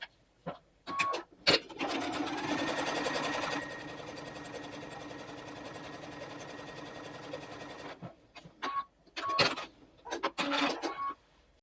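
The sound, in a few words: sewing machine stitching quilt strips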